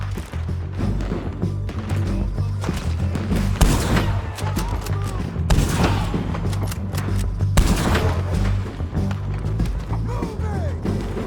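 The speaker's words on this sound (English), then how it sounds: "Keep shooting until they're not!" Sustained gunfire from a Red Dead Redemption 2 shootout: dense, overlapping rifle and pistol shots crack and boom nonstop for the whole stretch, loud and close, with short shouted voices mixed in.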